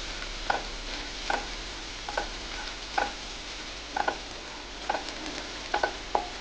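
Green chillies sauté in a pan for Maharashtrian thapi vadi under a soft, steady sizzle, while a spatula taps and scrapes the pan in about ten sharp, irregular clicks.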